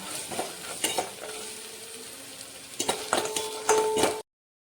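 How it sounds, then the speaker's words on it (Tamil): Cumin and black pepper sizzle softly in a hot pan for pepper rasam, with occasional stirring scrapes and a few metallic clinks of a utensil against the pan, close by, no talking. "ஜீரக மிளகு கொஞ்சம் வதங்கிடுச்சு நண்பர்களே, வதக்கியாச்சு."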